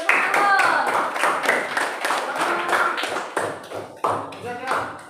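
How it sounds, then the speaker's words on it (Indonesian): Classmates in a classroom clap for the presenters, giving a burst of uneven hand claps with overlapping voices and chatter around them. "Tepuk tangan untuk pembuat."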